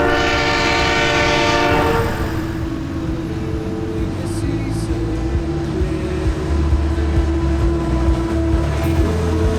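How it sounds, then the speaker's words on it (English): A long train passes on an Australian rail line, opening with a loud, sustained horn blast, followed by a steady rumble of wagons rolling by close up, with a brief voice faintly heard. "A long train"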